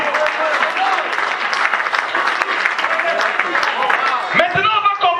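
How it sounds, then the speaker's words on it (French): Loud church congregation applause and cheering after a call to clap for Jesus, a dense continuous roar of clapping hands with voices mixed in throughout. "Clap for Jesus."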